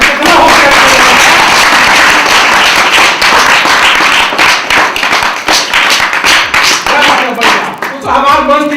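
Loud, dense clapping fills a Chhattisgarhi comedy scene, steady and continuous before thinning into scattered claps as a voice begins to speak.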